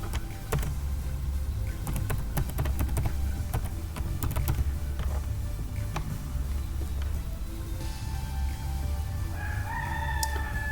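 Keys clatter on a computer keyboard as an email address and password are typed in a quiet room, with steady, irregular clicks throughout and a rooster crowing faintly in the background near the end.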